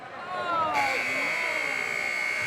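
Game-ending buzzer at a basketball game sounds as a loud sustained electronic tone over crowd noise and excited commentary.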